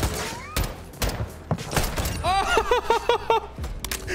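Hip-fired gunshots in Call of Duty: Modern Warfare II, sharp separate cracks spaced through the moment, mixed with busy game effects and warbling tones.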